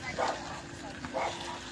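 An unleashed dog being played with in a park barks twice, with short yipping bursts a second apart, mixed in with nearby voices talking.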